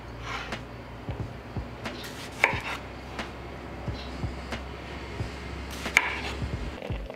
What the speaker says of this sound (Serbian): Tri sveža paradajza preseći ću na polovine.